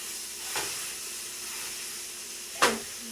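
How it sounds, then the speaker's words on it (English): Ground beef browning in a pan with a steady close hiss and sizzle throughout, rising in two brief louder bursts of sputtering as the meat is moved. "We now brown the meat."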